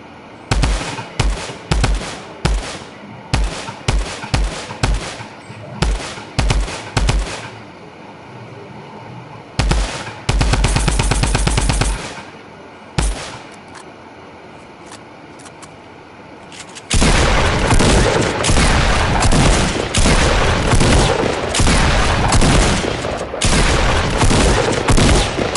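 A Tommy gun rattles in a video game, first in short spaced bursts, then in a long sustained stream of loud rapid fire in the second half, close and dominant.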